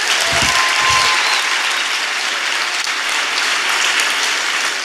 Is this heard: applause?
yes